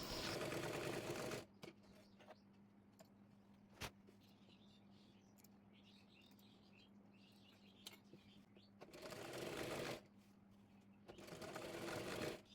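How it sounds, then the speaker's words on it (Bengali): A sewing machine stitching the neckline of a kameez, whirring in steady close bursts at the start and end with a quieter pause between, faint background sounds in the gap. "এর সামনে পাটের গলাটিও একইভাবে সেলাই করে নেব।"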